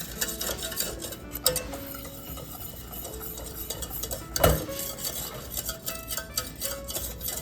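A spoon stirs cocoa powder into milk for a chocolate meringue pie filling, giving soft scraping and clinking against the bowl, quiet and continuous with one sharper knock.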